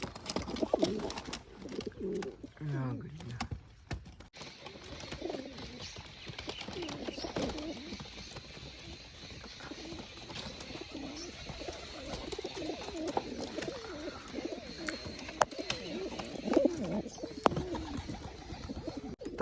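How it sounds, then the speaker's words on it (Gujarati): Pigeons sit on a nest with eggs and coo repeatedly at close range, soft throaty rolling calls over about twenty seconds, with faint background noise. "અંદર જોઈ તો કબૂતર પણ બેઠા છે"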